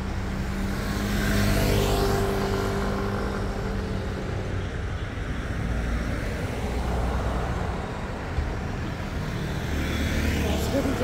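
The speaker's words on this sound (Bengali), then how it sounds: "বাস গাড়ি, মোটরসাইকেল, কত গাড়ি যায় দেখেছো? কত গাড়ি যায়।" Buses, cars and motorcycles pass along a road in Taiwan, a steady roar of traffic with vehicles swelling and fading close by, continuous throughout.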